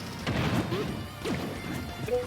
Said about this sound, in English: the sound effect that Rob makes is from one of the ROB games